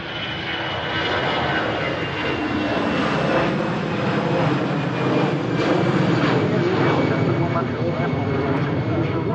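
A Lufthansa airliner heading for Munich departs Manchester Airport with a steady, loud jet roar that holds for the whole stretch, while people talk over it.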